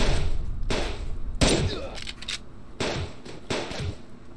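Rapid bursts of gunfire in the survival video game Subsistence, several loud close volleys cracking out in clusters with brief gaps, over a dense, noisy game background.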